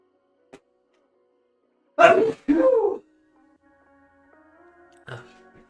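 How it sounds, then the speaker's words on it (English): One person sneezes nearby in two quick bursts, a sharp inhale followed by the explosive release, surrounded by near silence with faint small sounds before and after. "Let me sneeze."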